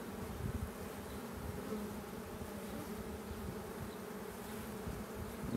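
A dense, continuous buzzing of many honeybees swarming close around a hive, steady and loud throughout with no pauses.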